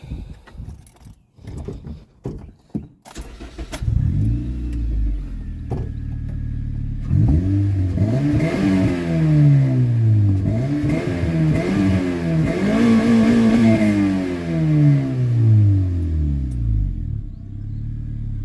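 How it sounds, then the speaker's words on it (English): A 2008 Honda Civic LX with a 6,800 rpm redline cranks and starts after a few clicks, then settles to idle and is revved repeatedly in rising and falling sweeps, loud and close. "Let me start it up one more time and hit the rev."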